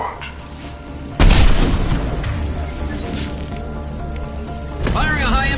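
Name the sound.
high-impact gunshot in the video game Mass Effect 2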